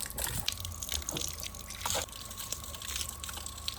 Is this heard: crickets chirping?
no